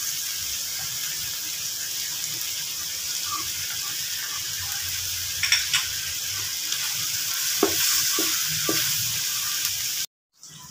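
Beef stir-fried with ampalaya and onion in a pan, a steady broadband sizzle with occasional faint clinks and scrapes, heard close, no talk, ending with a brief cut of silence.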